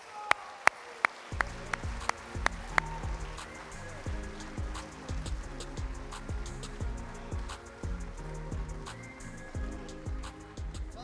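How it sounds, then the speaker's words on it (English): Audience applause at a high school sports awards ceremony begins with a few scattered claps, then swells into sustained, moderately loud clapping from a crowd. "let's give him a round of applause"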